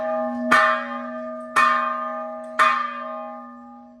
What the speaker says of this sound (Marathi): आणि जो मोठा घंटा आहे